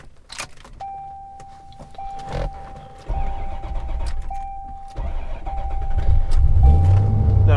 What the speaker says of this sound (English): I just didn't hold the starter down long enough